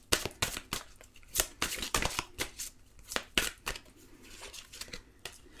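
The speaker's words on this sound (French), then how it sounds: "je vais prendre une carte de celui-ci" Tarot cards are shuffled and drawn by hand, giving a quick series of crisp, papery snaps and riffles at an uneven rhythm, close and moderately loud.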